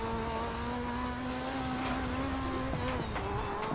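Group B rallycross car in the racing game DiRT 4, its engine droning at a steady high pitch with tonal harmonics, then shifting slightly as revs change, alone without talk.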